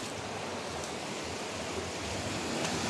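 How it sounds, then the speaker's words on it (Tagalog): Strong water rushes through a forest stream, a continuous, even roar of broadband noise heard from nearby with no talk. "sobrang lakas na ang ragasa ng tubig"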